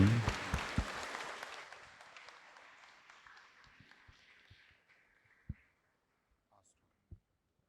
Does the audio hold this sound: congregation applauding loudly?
yes